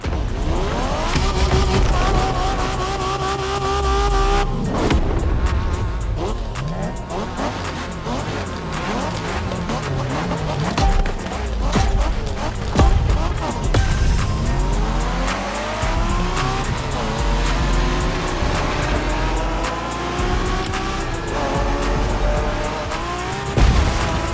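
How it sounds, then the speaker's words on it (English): Race car engines roar through hard acceleration and gear changes while tires squeal and skid in The Crew Motorfest Japanese street racing, loud and continuous, with repeated rising engine pitch sweeps and no talk. "We're going for some proper Japanese street racing."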